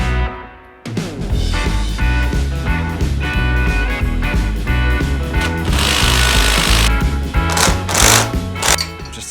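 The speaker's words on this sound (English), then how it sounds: "Decided I'm going to just jam the socket into the old handlebars to give me some extra leverage" A power tool drives a socket to loosen the front fork bolts on a BMW K100 cafe racer project, a loud rapid hammering chatter running almost continuously with short bursts of harsher noise.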